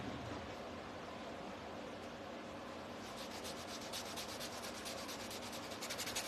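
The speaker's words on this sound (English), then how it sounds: "Just sand that." A painted piece of home decor being sanded by hand, a soft continuous rubbing hiss that turns into quicker rhythmic back-and-forth strokes in the later seconds, close and fairly quiet with no voices.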